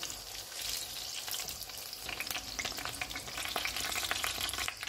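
Kofta kebabs fry in a pan of hot oil, a close, continuous crackling sizzle with sharp pops and occasional stirring noises, and no one talking.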